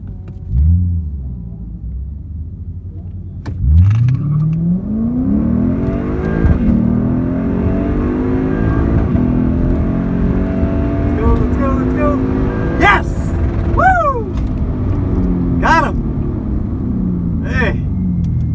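A Lexus ISF and a Dodge Challenger Hellcat race side by side at a drag strip. Deep engine rumble builds into hard revving acceleration with rising engine tones and sharp gear-shift breaks, loud and close, with people talking over it.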